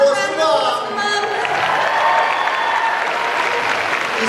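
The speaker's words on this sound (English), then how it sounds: "Let's give Can a we round have of a applause round for of Mum." Audience applause fills the hall at a Gold Coast cosplay contest, honouring the mother of a young Bumblebee cosplayer; steady, dense clapping of a sizeable crowd, close and loud throughout.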